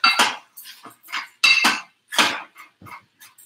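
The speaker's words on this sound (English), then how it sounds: "I'm going to use one of these heavy duty spoons" Heavy-duty metal spoon clinking and scraping against a pot while strawberry mixture cooks down, a quick series of bright, close metallic knocks in uneven bursts with no talking.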